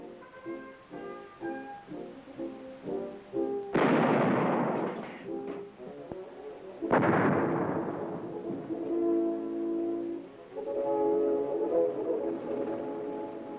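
Artillery live firing during military training, two heavy booming blasts a few seconds apart, each trailing off into a long rumble, with orchestral music playing throughout.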